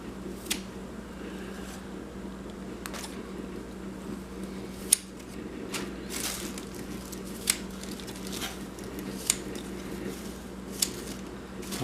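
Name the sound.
cutting amaranth microgreens from growing mat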